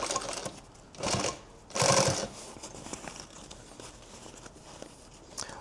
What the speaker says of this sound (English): We can just sew it from this direction and make the pleats